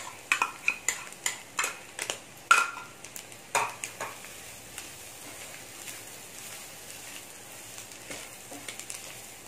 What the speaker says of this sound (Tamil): நல்லா ஃப்ரை ஆயிடுச்சு.